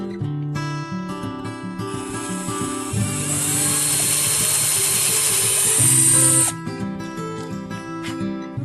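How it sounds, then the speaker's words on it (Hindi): A power drill bores a hole during a kids' engineering build of a homemade vacuum cleaner. A loud, steady whine runs for about three seconds in the middle of the clip over background music, with no talk. "अब होल ड्रिल करते हैं।"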